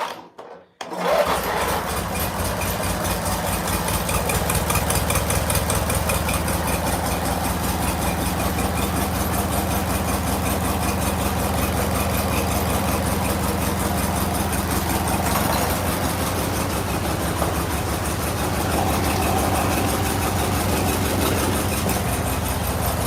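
Vehicle engine cranks and catches after a brief silence, then settles into a steady, close, rhythmic idle that runs without pause, with no talking.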